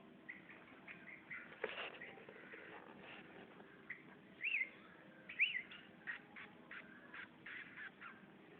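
A tame sooty-headed bulbul gives a few faint, brief chirps and whistled notes outdoors, scattered over soft background noise and rustling.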